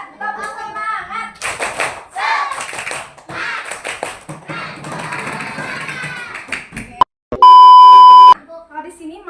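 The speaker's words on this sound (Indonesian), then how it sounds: "Tepuk semangat." A group of children and adults performs a tepuk semangat spirit clap in a classroom, rhythmic patterned claps with chanting voices, followed by a loud electronic beep tone near the end.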